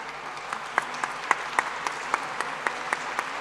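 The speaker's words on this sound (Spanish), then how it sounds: "un aplauso para nuestros invitados" Sparse, moderately quiet clapping from an audience welcoming guests at a university magazine launch, with a few distinct louder claps standing out over a soft wash of applause.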